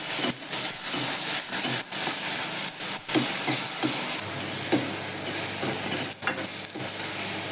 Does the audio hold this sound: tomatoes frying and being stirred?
yes